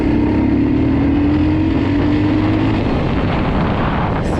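A Geon X-Road Light 250 motorcycle engine (2023) pulling hard in third gear, a loud close droning roar with a rising tone that fades and fluctuates near the end.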